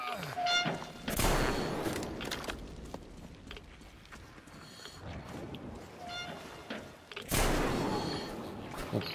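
Gunfire in the Metro Exodus video game, two sharp loud shots a few seconds apart standing out over dim game ambience and muffled sounds between them.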